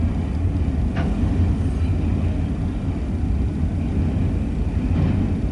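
An eastbound mixed freight train ending in stack cars rolls past close by, a loud steady low rumble with a couple of faint metallic squeals, no voices.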